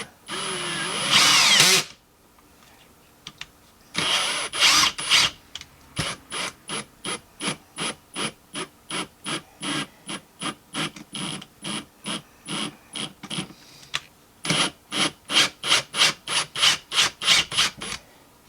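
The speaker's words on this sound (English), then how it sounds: "I forgot I had these drill bits with the die tap thing all built in one." Power drill fitted with a combined drill-and-tap bit cutting holes in a heatsink for mounting an amplifier board: a long opening whir, then dozens of short, evenly spaced trigger bursts in quick succession, loud and close with no talk.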